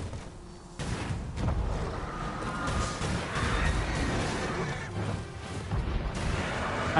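Gunfire in the fantasy action game Dragon's Dogma 2, a dense barrage of blasts and booms that stays loud and continuous across a cluttered battle mix.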